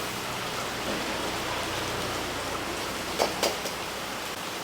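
Steady rain falls throughout, a broad even hiss that never lets up, with a couple of brief sharper spatters near the end and no voices.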